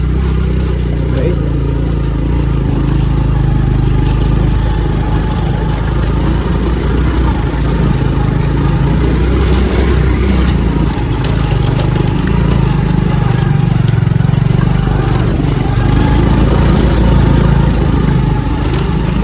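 Motorcycle engine labouring steadily up a narrow concrete hill path in rural Vietnam, a loud continuous low drone close by throughout with wind rumble.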